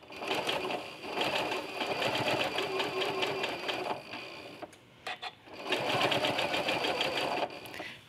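A sewing machine fitted with a walking foot stitches curved lines across a quilt top, running in two long steady bursts of rapid rhythmic needle clatter separated by a brief pause with a few soft clicks.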